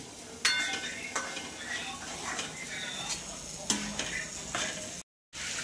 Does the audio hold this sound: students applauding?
no